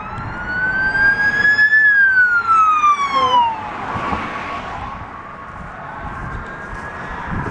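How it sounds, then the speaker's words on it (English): An emergency vehicle siren wails loud and close along a roadside, its pitch sweeping up and then falling away as it passes, with traffic noise lingering after it fades. "Normally I hear those sirens long before I see the lights"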